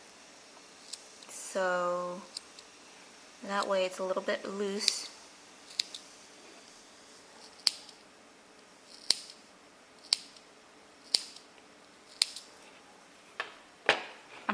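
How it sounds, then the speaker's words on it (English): Scissors snip through needle-felted wool in a series of about eight crisp, close cuts spaced a second or so apart, following a few brief spoken words at the start. "I'm going to take some scissors and I'm going to snip that"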